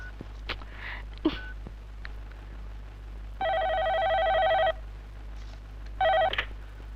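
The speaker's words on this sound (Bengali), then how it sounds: "ফোন ধরতে এত দেরি হলো যে?" A telephone ringing indoors: one long electronic ring burst followed by a shorter second one, fairly loud and near, with a low hum and small handling noises between.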